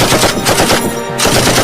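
Rapid gunfire in a battle scene, with loud bursts of automatic shots crackling close by and a short gap before the firing resumes.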